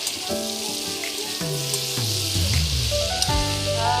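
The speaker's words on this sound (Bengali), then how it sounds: "কুঁদরি পেঁয়াজ দিয়ে চিংড়ি মাছটা ভাজা হবে" Steady close sizzling of shrimp frying in a pan with ivy gourd and onion, with occasional scraping and stirring knocks and a faint tonal hum underneath; no talking.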